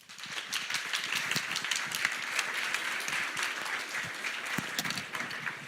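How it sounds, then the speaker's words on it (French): A lecture-hall audience applauds to welcome a speaker at a medical talk, dense steady clapping sustained throughout at even loudness with no voices over it. "Et je vous demande d'acclamer maintenant le professeur Philippe Cook"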